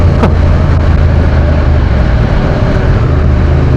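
Triumph Speed Twin 900 motorcycle engine while riding, a loud continuous low rumble mixed with wind roar, steady throughout with no voices.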